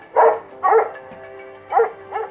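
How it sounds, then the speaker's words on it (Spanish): Several dogs bark furiously from behind a house, bursts of loud barking coming in uneven clusters with short pauses between them, no voices present. "sus 3 perros ladraban furiosos desde la parte de atrás"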